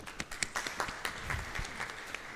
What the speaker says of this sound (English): Let's give applause to all of us.